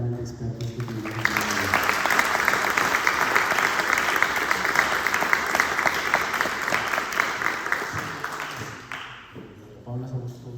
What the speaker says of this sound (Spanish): un gran aplauso a este panel de expertos que tenemos aquí